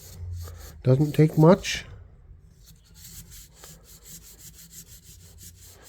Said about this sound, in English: we'll just get down in there a little bit with this 1000 grit, loosen that stuff up, clean it up just a little bit